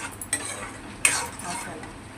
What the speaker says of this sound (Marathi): चांगलं थोडं फ्राय करून घेऊया. तेल सुटेपर्यंत थोडं फ्राय करायचं